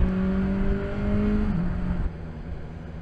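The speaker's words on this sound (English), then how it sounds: "the engine does feel, no, doesn't feel rattly, sounds rattly" A 2021 BMW S1000XR four-cylinder motorcycle engine is heard from the saddle while riding, giving a steady droning hum with a slight pitch dip midway. Wind noise runs underneath, and the engine note sounds somewhat rattly.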